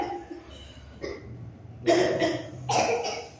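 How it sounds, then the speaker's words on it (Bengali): Young children in a classroom cough in a few short, sharp bursts close by, with brief quiet gaps between them. "এত কাশি হচ্ছে সব ঠান্ডা লেগেছে না"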